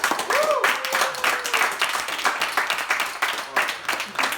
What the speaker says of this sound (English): can we give just a round of applause to Archer?